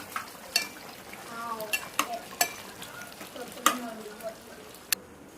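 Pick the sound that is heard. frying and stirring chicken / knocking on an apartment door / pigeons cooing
frying and stirring chicken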